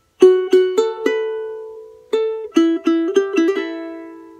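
Charango plucking a repeated melody phrase, four spaced notes, a pause, then a brisk cluster of bright attacks ringing together, played solo and near.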